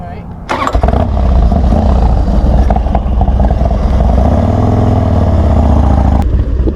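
A Harley-Davidson Dyna FXDX motorcycle engine fires up with a loud burst at about half a second and settles into a heavy, steady idle and rev that runs close and loud for several seconds.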